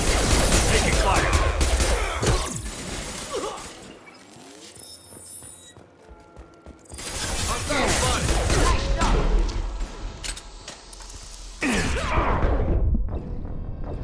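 Gunfire in a Mass Effect 2 firefight, loud dense bursts of shots and impacts in two main waves with a quieter lull between, voices calling out over the combat.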